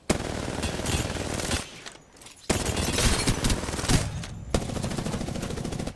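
Continuous automatic gunfire in a shooter game hammers away loud and close, broken by two short pauses before the shooting resumes unbroken.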